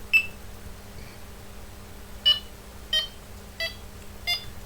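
Four short electronic beeps from a fishing bite alarm at a steady, unhurried pace, bright and close, with a faint hum underneath and no talking.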